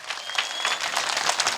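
Applause from an audience at a Kikuyu-language church gathering, dense steady clapping filling the short stretch at even loudness without a break.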